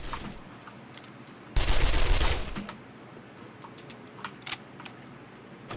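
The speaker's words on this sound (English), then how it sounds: "Combat Shotty is one of the best weapons in the game." A Combat Shotty shotgun in 7 Days to Die fires one loud, close blast lasting about a second, followed by light scattered clicks and quiet ambience.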